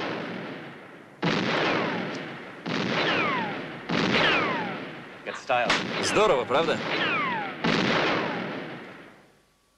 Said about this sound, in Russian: Это были предупредительные выстрелы.